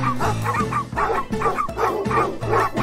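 Cartoon dogs bark in a rapid, loud, steady series of yips and bow-wows, one bark after another for the whole stretch.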